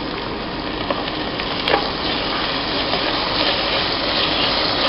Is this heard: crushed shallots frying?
yes